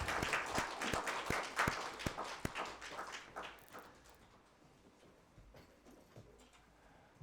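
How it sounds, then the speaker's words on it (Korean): A church congregation claps together during a Sunday Christmas worship service, starting as loud, dense applause that thins and fades to scattered claps over several seconds. "박수를 한번 돌리겠습니다."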